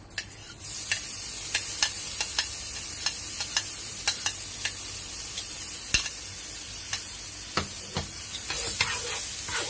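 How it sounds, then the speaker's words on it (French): Onions fry in a pan for homemade burgers, a steady close sizzle broken by repeated sharp scrapes and clicks of stirring, with no voices. "Et on va faire revenir les oignons."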